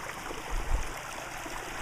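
Stream water flows near a waterwheel by Joyce Hut, making a steady broad rushing wash with a brief low surge in the middle. No one speaks.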